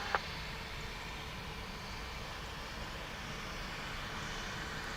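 A steady, distant aircraft engine roar at Dublin Airport, a low broadband rumble holding constant throughout with no other distinct sounds.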